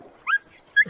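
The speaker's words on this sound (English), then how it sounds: "There's a dog!" A dog out in the Patagonian wilds of Chile gives two short, sharp yips about half a second apart, close by, with quiet between them.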